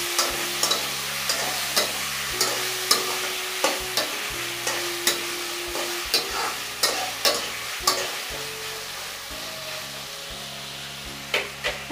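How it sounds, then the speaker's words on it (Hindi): Sliced onions and tomatoes stirred and fried in a pan for soybean chilli: steady sizzling under repeated spoon scrapes and taps at a regular pace, close and clear, no voices. "अब इन सभी चीज़ को इसके अंदर ऐड करेंगे। और इसे मिक्स करेंगे।"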